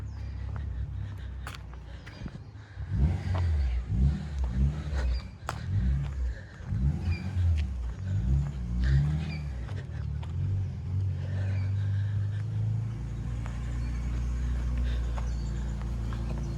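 Cars pass along a road beside the Aiea Loop Trail in Keaiwa Heiau State Recreation Area, their engines swelling and fading as they go by, with footsteps and a steady low rumble of traffic continuing afterward.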